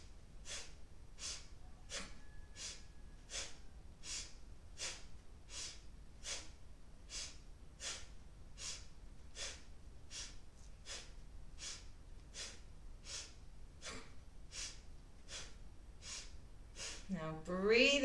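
Heavy rhythmic breathing during a yoga breathing exercise: about twenty sharp, forceful breaths at a steady pace, close and loud, alone without talk, ending in a brief voice.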